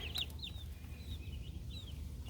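Backyard chickens in a coop, a mix of Brahma, Easter Egger, Wyandotte and meat birds, give soft clucks and a few higher chirping calls over a steady low rumble of background noise.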